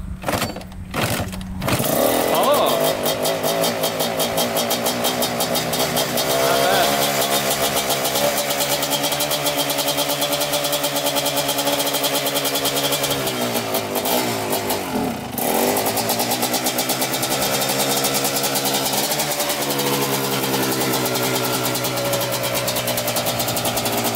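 Kawasaki Tecate 250cc two-stroke engine, kicked over a few times before catching, then running loud and close with a raspy, uneven rev that holds steady and dips once midway.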